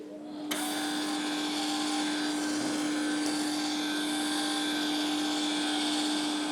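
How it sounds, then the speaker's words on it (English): A welder's wire feed motor runs steadily, pushing wire out of the welder with a constant close electric hum and whine that begins abruptly and holds at an even level throughout. "first, I'm going to let the wire go out of the welder."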